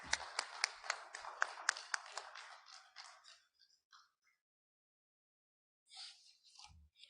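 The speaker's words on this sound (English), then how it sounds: "Can we once again have a great round of applause, please?" Scattered applause at a national education summit on commerce and accountancy, made of a few sharp, distinct claps that thin out and stop after about three seconds, followed by silence and then brief faint sounds.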